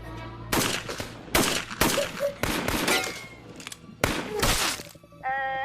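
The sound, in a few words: gunshots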